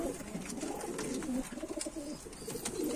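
A soft pigeon coo rises over a busy outdoor background, fairly faint and partly blended with ambient noise.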